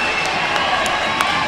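A basketball crowd at a high school game cheers loudly, a dense, continuous roar of voices with a few sneaker squeaks or thuds cutting through.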